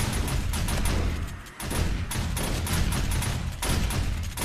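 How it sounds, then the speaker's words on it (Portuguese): Shotgun turrets in 7 Days to Die blasting nonstop at a zombie horde, a dense, loud barrage of overlapping shots with barely a pause. "Olha o tanto de 12 atirando ali."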